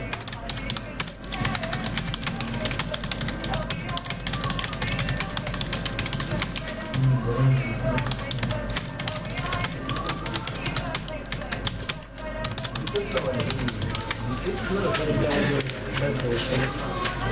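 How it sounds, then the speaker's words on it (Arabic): Rapid typing on a computer keyboard by a fast typist, a dense continuous clatter of keystrokes running through the whole stretch, with people talking over it. "بتكتب على الكيبورد كده بسرعه ازاي؟"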